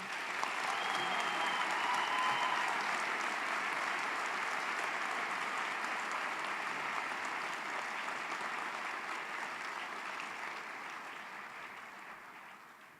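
Commencement audience clapping for doctoral degree recipients, a broad, even wash of applause from a large crowd that holds steady and then gradually fades over the last few seconds.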